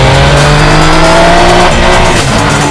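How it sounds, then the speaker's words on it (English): A Triumph Tiger 800 motorcycle with an inline three-cylinder engine roars loud and close, its meaty, bassy exhaust note rising and holding as it revs and accelerates. "The trademark whistling sound of the 3-cylinder engine is muted, and now the sound is meatier and bassier than before."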